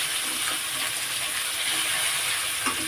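Vegetables fry in a little oil with a constant close sizzle and faint stirring scrapes, loud and even throughout, without speech.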